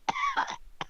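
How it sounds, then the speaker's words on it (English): One person gives a short, close cough with a throaty rasp, followed a moment later by a second brief cough burst. "Didn't you know coughing was illegal these days?"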